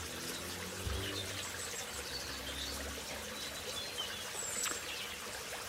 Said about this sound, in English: all that remains to do is top the pond up, which I'm doing there, as you can see